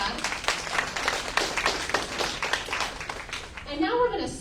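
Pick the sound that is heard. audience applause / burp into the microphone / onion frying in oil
audience applause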